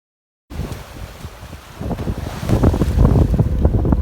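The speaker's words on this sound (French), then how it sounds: "le vent est en train de s'adoucir" Steady wind at sea aboard a sailing boat, rushing and buffeting the microphone, with water sloshing against the hull, growing louder and rougher after a silent opening half-second.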